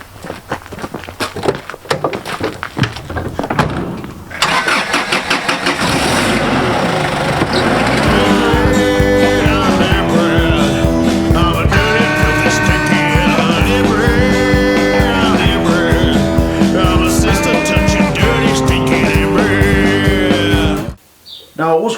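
A car engine cranks briefly, catches, and runs at a loud, close idle with revving rises and falls that continue for most of the clip before cutting off near the end.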